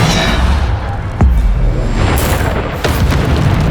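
Bombarda spell explosions booming in Hogwarts Legacy, several heavy blasts with whooshes over a dense, loud combat din.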